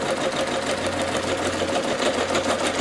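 Singer Legacy SE-300 embroidery machine stitching a tack down, a steady loud mechanical hum and rapid needle rattle running continuously throughout.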